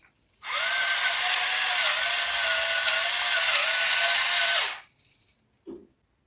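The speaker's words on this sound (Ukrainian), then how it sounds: "Поки буду збивати яйця з молоком" A steady whirring of four eggs being whisked with 200 ml of milk, salt and black pepper, the buzzing beater running about four seconds before stopping, then a brief clink.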